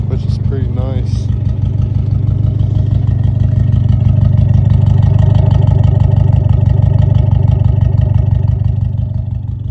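A Honda CX Civic engine, rebuilt with new valve seats, runs loud and close in a steady, even chug with light mechanical clatter, while someone talks over it near the start.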